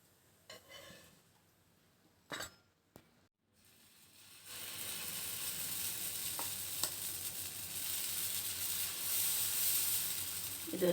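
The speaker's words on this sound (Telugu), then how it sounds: "ఆయిల్ వేసాం కదా మళ్ళీ ఒకసారి తిప్పుకొని ఫస్ట్ సైడ్ కూడా మళ్ళీ ఒకసారి ఫ్రై చేసుకుంటే బాగుంటుంది" Small jaggery dosas made from idli batter frying in oil in a pan, a few soft clicks and scrapes at first, then a steady bright sizzle that swells and holds loud to the end.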